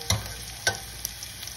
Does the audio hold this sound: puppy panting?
no